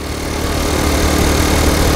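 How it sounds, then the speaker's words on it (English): A Honda Cub C90 motorcycle engine ticks over at idle with its centrifugal clutch disengaged, a close, loud and steady small-engine putter with a constant vibrating hum and no talking. "when the engine is ticking over, the clutch is disengaged"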